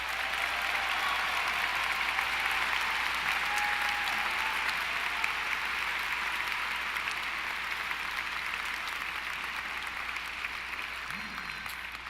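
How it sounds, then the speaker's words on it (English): Sustained applause from a large commencement audience at the University of Michigan winter graduation, saluting PhD graduates; broad, even clapping from far off holds steady for twelve seconds and eases slightly near the end. "Let's give a round of applause to all of our PhD graduates."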